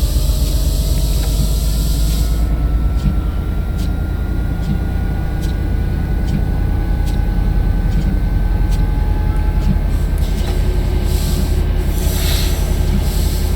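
Metrolink MP36PH-3C locomotive braking in the Train Sim World 5 video game, a loud steady low rumble with slowly rising whine tones and regular clicks from the wheels, no talking.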